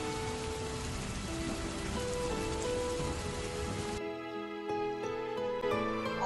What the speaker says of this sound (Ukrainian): і супиться сіре небо, і з нього лються ниточки осіннього дощу